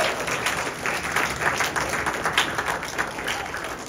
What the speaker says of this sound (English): Let's give a round of applause one more time to the ladies who put all this preparation into today's meal.